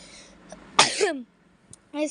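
A person gives a few short, harsh coughs close by, with a sharp burst in the middle and a softer one at the end, and brief voice sounds between them.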